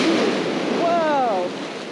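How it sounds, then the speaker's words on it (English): Violent surf waves breaking on a beach during surf fishing, a steady loud wash of water and wind noise throughout, with a brief whistling tone partway through. "These waves are violent right here."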